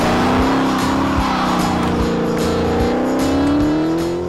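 A Dodge Challenger Hellcat Redeye accelerates hard with its wheels spinning, a loud rising engine roar climbing in pitch over rough tire noise, close and continuous.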